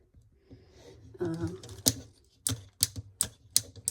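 A plastic action figure's ratchet joint clicks in a series of about six sharp, distinct snaps, close up and fairly quiet, following some soft handling rustle.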